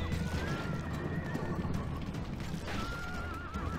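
Heavy cavalry horses charge in the video game Rome Total War Remastered, with loud whinnying over a dense, continuous rumble of hooves and battle noise.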